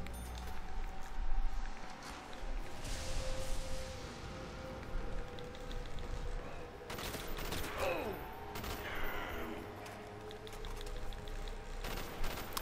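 Three-round burst rifle fire in Call of Duty Black Ops Zombies, Call of the Dead map, cracks out in repeated short volleys over game ambience and effects, with heavier clusters of shots near the end.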